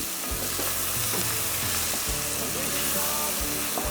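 Butter melting in a hot pan alongside crawfish boulette mixture, a steady dense sizzle with bubbling crackle and a few low knocks, close and continuous.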